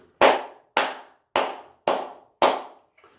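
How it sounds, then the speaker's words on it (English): Five loud, sharp hand claps ring out one by one at an even, unhurried pace, each a crisp close-up smack with a short decay, then silence. "I want to give another clap to the first responders"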